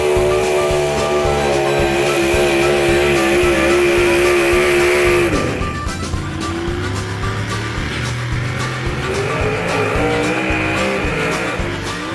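Loud racing engines of 4x4 trucks at a drag racing event in Saint-Hyacinthe scream at high revs, one roaring pass with shifting gear pitch followed by another engine revving hard, close and continuous.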